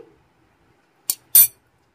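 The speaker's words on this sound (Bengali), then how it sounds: "এখন একটু নেড়ে চেড়ে নেব।" A utensil scrapes and clinks twice against a pan holding bottle gourd and mung dal, two short bright metallic strokes in an otherwise quiet kitchen.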